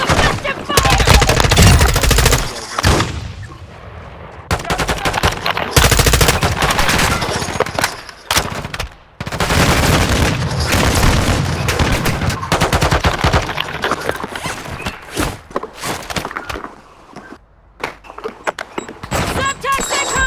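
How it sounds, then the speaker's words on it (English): Heavy automatic gunfire and explosive bursts in a combat video game, loud and sustained across most of the stretch with brief lulls, with occasional talk mixed underneath. "Taking effective fire!"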